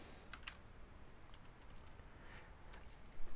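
Quiet keystrokes on a computer keyboard as CSS code is typed, a faint irregular patter of clicks with a few louder taps at the end, heard alone.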